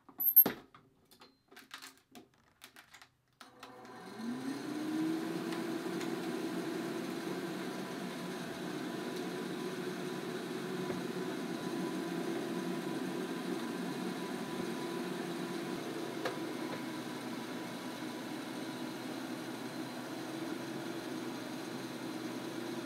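A hooded hair dryer starts after a few clicks and handling noises, then runs as a steady low hum with a faint airy whir, unchanging and close, with no talking.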